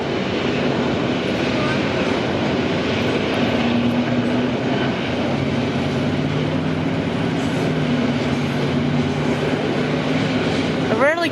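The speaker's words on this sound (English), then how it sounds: "I rarely catch these cargo trains." A long cargo freight train rumbles past steadily and loudly, with a continuous roar of wheels and cars that never lets up.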